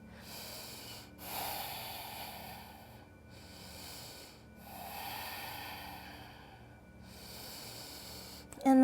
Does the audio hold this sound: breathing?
yes